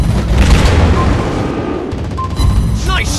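Heavy booming torpedo explosions and cannon fire in the naval battle game World of Warships Blitz, a dense, loud rumble throughout with layered blasts and a short whooshing effect near the end.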